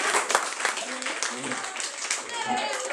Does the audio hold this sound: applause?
yes